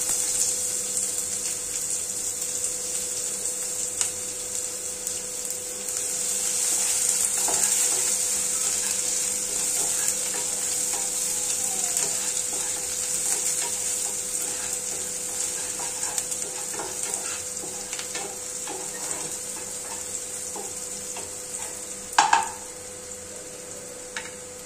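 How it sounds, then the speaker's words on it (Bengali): Chopped onion and green chilli fry in hot oil for a Bengali dal and pointed gourd curry, a steady close sizzle and hiss running throughout, with faint stirring and one brief clatter near the end, no talking. "কাঁচা লঙ্কার সুগন্ধটা ভালোভাবে ছড়িয়ে গেলে এবার আমরা তাতে দেব পেঁয়াজ কুচি।"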